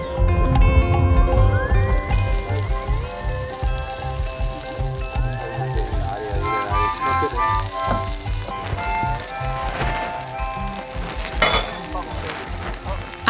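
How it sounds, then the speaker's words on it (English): Onions, tomatoes, peppers and fresh herbs sizzle and fry in a pot over an open outdoor fire, a loud, close, continuous crackling hiss with stirring clatter and bubbling throughout. "I'm cooking down onions, tomatoes, peppers, and fresh herbs to make for a beautiful red sauce"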